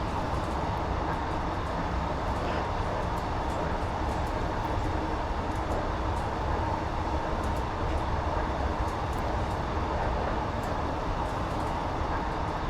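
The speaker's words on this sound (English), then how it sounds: "this is the S8 stock you can get on Steam by Just Trains, Metropolitan line service by Just Trains as well" An S8 stock Metropolitan line train runs in Train Sim Classic, a continuous loud rumble of wheels and motors with faint periodic clicks over the track, steady throughout with no voices.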